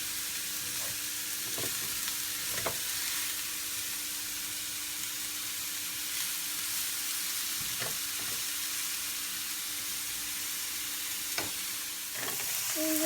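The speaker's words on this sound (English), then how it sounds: "These are sizzling away nicely." Thinly sliced vegetables sizzle steadily in a hot frying pan for noodles with feta, a constant bright crackling hiss close up, with occasional knocks and scrapes of stirring.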